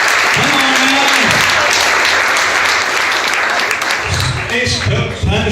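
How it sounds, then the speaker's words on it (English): Audience applause fills a hypnotist show, a loud, dense wash of clapping that carries on steadily, with a voice talking over it in places near the start and end. "All my friends, a big round of applause, by the way."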